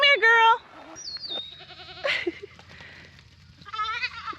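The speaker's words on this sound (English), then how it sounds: "Come here, goat!" A goat on a homestead bleats in a loud, wavering burst, followed by a few shorter, softer bleats from nearby goats, with a person calling out between them.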